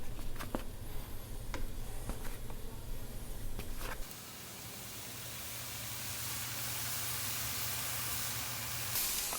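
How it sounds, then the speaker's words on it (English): Sausage browning in a cast iron skillet for breakfast pizza gives a steady hiss that swells and holds, after a few scattered knocks and faint background noise at the start. "we've got our sausage on to brown right now"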